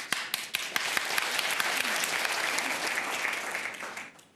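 Sustained applause from a studio audience at a Russian awards ceremony, dense and steady with a few sharp claps standing out at the start, then slowly fading away.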